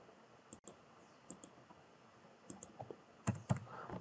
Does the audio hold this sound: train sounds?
no